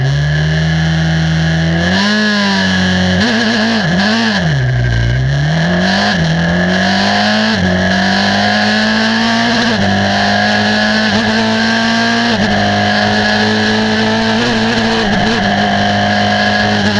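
A racing car engine drones steadily on a seafront track in Brighton, its pitch rising and dipping through gear changes and revs, loud and continuous with no talking.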